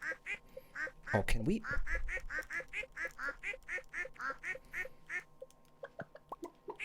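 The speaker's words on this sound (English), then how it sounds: "We have evidence that, like, he totally quacks." A Family Guy cartoon character quacks like a duck in a quick, steady run of bright, nasal quacks, about two per second and close up, with a short spoken line near the start.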